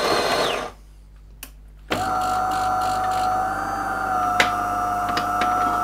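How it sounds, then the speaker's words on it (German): A De'Longhi ECAM 23.466 automatic coffee machine grinds beans: a steady whining motor hum with a rattling grind, close and constant after a brief quieter gap. "Und der Mahlvorgang beginnt, also ihr hört es im Hintergrund."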